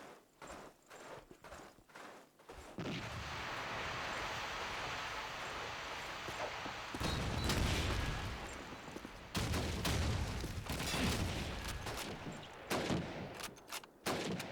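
Gunfire in a Call of Duty 2 tournament match, with bursts of rapid shots and sharp single cracks over constant battlefield noise, loud and close, with no talking.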